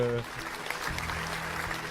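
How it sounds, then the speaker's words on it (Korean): A church youth congregation applauds during a sermon, a dense patter of clapping rising right after a brief spoken word and carrying on steadily, with a low voice murmuring underneath. "박수"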